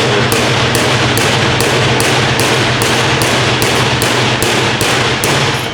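Steady, evenly spaced metal strikes ring out, about two per second, as a hammer drives a chisel to cut a bushing out of a 4L60 transmission part. They are loud and close, with no talking.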